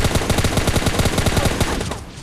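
Rapid automatic gunfire in a shooter video game, a loud close burst of evenly spaced shots rattling off for about two seconds before stopping abruptly.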